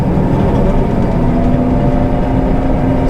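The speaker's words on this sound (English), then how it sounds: "turn the thrasher on like that, kind of listen for any weird sounds" A combine thresher running at full throttle, a dense, loud, constant engine and machinery roar with a steady whine over it, unbroken for the whole stretch with no talk.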